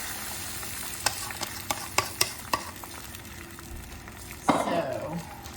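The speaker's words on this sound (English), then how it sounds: "Going to go ahead and add the eggs." Eggs poured into an oiled pan already holding sautéed mushrooms sizzle steadily, with sharp scraping taps from a spatula and a louder hiss rising near the end, heard close up without speech.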